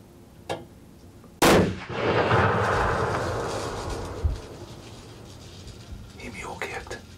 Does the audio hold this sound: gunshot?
yes